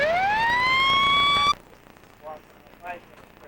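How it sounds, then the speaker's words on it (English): An emergency vehicle siren wails loudly in a rising tone, then cuts off abruptly, followed by quiet with brief faint radio voices. "Bravo 2-1, your siren's on."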